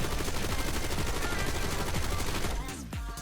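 A PU-21 assault rifle in a first-person shooter fires a long, sustained automatic burst of evenly spaced loud shots, then stops, leaving a short trailing echo.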